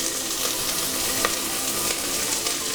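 Moringa drumsticks sizzle steadily in hot oil in a frying pan while cooking a moong dal curry, a continuous, fairly loud frying hiss with faint stirring clatter and no talk.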